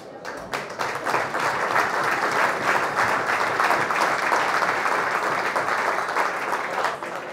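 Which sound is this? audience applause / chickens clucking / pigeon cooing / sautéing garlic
audience applause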